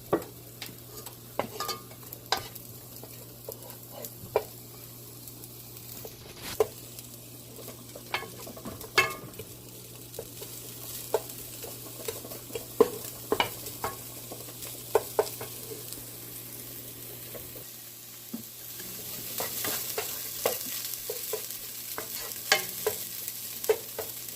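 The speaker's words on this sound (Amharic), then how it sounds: "አሁን ሽንኩርቴን እዚህ አቁላላለሁ።" Onions sauté in a pan for macaroni cheese with a soft, steady sizzle. Frequent sharp clicks and scrapes from stirring run through it, and the sizzle grows brighter and louder toward the end.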